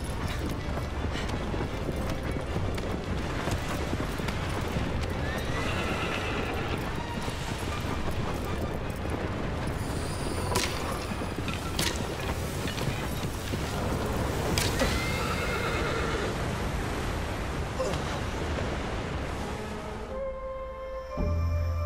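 A horse gallops in the video game Shadow of the Colossus, with a steady, quiet clip-clop of hooves running continuously under faint game ambience and scattered clanks. No neighing stands out.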